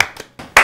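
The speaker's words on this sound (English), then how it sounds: "Clap." A few sharp hand claps in quick succession during a family meeting in a Nigerian drama, close and crisp with a brief gap before the last, loudest clap.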